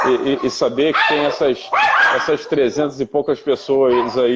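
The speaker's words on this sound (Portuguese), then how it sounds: "vocês vão ouvir os cachorros latindo aqui" Dogs barking and yipping during a live stream, the sharp barks overlapping steady close conversational speech in Portuguese throughout.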